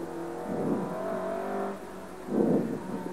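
A rally car engine drones steadily, swelling into a louder roar near the end, heard from inside the car on a special stage of the 2021 Rally Bianco Azzurro.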